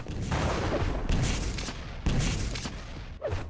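Railgun shots and weapon fire in a Quake Live match, several sharp bursts and booming blasts in quick succession with dense game noise between them.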